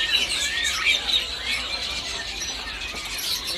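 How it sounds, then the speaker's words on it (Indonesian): Small perenjak songbirds chirp in a busy bird kiosk, their thin, bright calls overlapping in a steady chatter with no talk over them. "Ada juga stok burung perenjak atas teman-teman."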